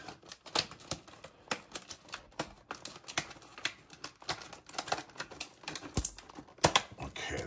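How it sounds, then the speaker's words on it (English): A plastic blister pack holding a 1998 Championship Collection baseball card pack is cut open, giving a run of sharp, irregular clicks and crackles that sit close to the listener and alone. "Not my favorite packages to try to open up, or blister packs."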